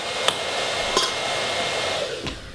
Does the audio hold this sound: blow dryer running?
yes